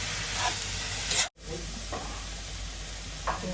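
Onions sautéing with grated coconut and a little chili powder stirred in, a steady close sizzle and hiss in a pan, with a few brief scraping stirs and one short dropout partway through.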